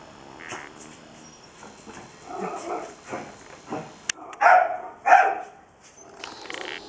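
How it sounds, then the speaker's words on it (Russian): A dog barks at cats outdoors in Spain, a series of sharp, spaced barks and yips, with two louder close barks near the end over quiet background. "Он пошел на них гавкать."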